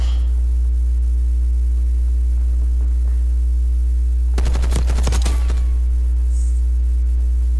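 Automatic gunfire in the Call of Duty Black Ops 6 beta, Moshpit Domination on the Derelict map: one dense burst of rapid shots lasting about a second, midway through, over a loud, steady electrical hum.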